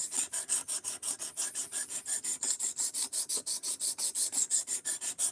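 A knife is drawn over and over across a stone on a fixed-angle sharpener, each rasping stroke crisp and close in a quick regular rhythm, about five strokes per second, with no voices.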